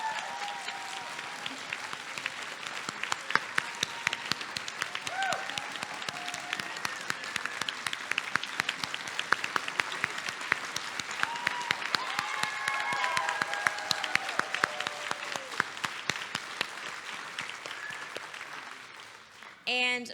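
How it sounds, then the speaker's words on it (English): Convention audience applauding panelists leaving the stage, a long, sustained round of clapping with crowd murmur, tapering off near the end as a voice returns. "Can we give them one more round of applause?"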